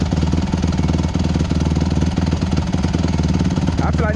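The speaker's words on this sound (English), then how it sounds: "See back to idling good." A 2008 Honda CRF150R dirt bike engine idles after carburetor tuning, a loud, close, rapid thumping single-cylinder putter that stays steady and even throughout, with a brief voice near the end.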